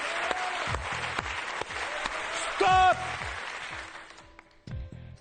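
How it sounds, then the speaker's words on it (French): A TV game show studio audience applauds steadily at moderate volume, with a short bright musical sting cutting through midway before the clapping thins and fades near the end. "On va vous encourager les uns les autres en vous applaudissant très fort."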